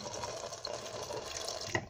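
Hot water runs steadily from a tap into a sink, a faint, continuous hiss and splash with a small clink near the end, no voices.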